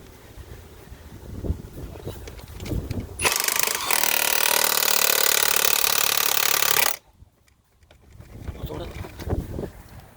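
A power tool tightens the wheel nuts one by one on a car after a flat tyre repair, a loud steady whirring burst lasting several seconds between quieter stretches of handling noise.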